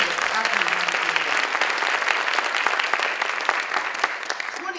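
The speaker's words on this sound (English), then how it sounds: "Can we give them a round of applause?" Full audience applause at a university faculty and staff coalition gala, a loud, sustained roar of many hands clapping with a brief murmur of talk near the start.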